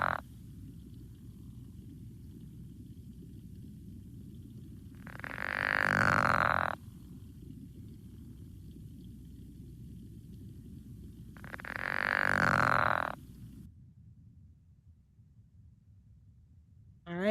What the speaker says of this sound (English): that is our friend the pickerel frog